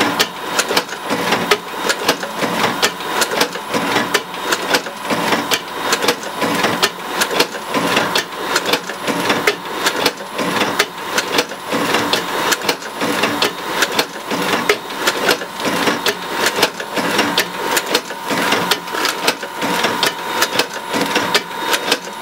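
A Disc Sleever MEP120 automatic machine packs CDs into paper sleeves, giving a steady, fast mechanical clatter with an even repeating rhythm that runs close and loud for the whole stretch without any talk.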